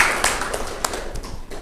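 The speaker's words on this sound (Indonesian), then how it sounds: "tepuk tangan lagi dong" Brief, scattered hand claps from a small classroom group during a microteaching lesson, close and uneven, fading within a couple of seconds.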